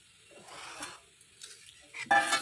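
Lentil pakora batter is mixed by hand with onion, green chilli and coriander, giving soft, wet squelching and scraping sounds that build louder toward the end.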